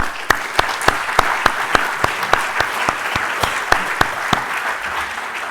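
An audience at an academic welcome address applauds steadily for about five seconds, a dense wash of hand claps with a few sharper individual claps popping out at a regular beat.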